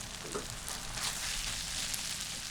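Ground meat with salt sizzles in vegetable oil with fried onion in a pan, making a steady moderate crackle and hiss that continues throughout without voices.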